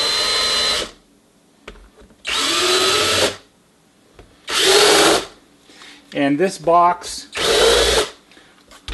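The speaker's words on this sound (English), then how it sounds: "So by drilling out the holes and doing the countersinks, you're not really weakening the box at all." A power drill countersinks screw holes in a thick, heavy box serving as the case for a replacement low-voltage transformer for a NuTone Model 2540, running in four loud close bursts separated by pauses, with someone briefly talking between them.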